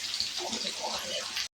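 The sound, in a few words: hilsa fish pieces frying in oil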